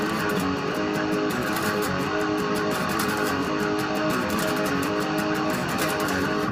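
An electric guitar plays the riff from the bridge: dense, loud distorted chugging with rapid rhythmic chops, continuous and up close, with no voices.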